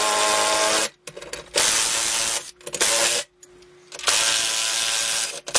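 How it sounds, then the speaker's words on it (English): A power drill drives bolts to mount a body press rack on a wall, in three loud close bursts of whirring separated by short pauses. "if you have a drill like this, it's much quicker"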